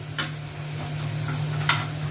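Garlic sizzling steadily in a pan with oil, a continuous hiss with a couple of sharper crackling bursts and faint scraping as it is stirred, alongside a low steady hum.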